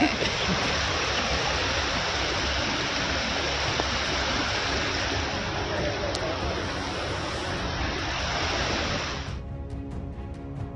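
Floodwater rushes loudly through a swollen stream in a mining area after heavy Karnataka rains, a steady broadband roar that holds for about nine seconds before easing slightly.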